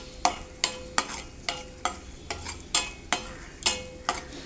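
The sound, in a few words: cashews frying in ghee in a small pan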